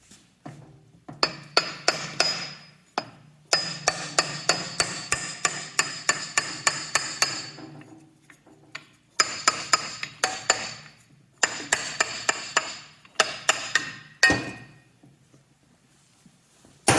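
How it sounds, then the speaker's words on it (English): Hammer blows tapping out a rusty part on a Monarch 10EE lathe, close and sharp in rapid bursts of ringing metallic strikes, pausing between runs of a dozen or more hits, with no talking. "get a hammer and tap that out."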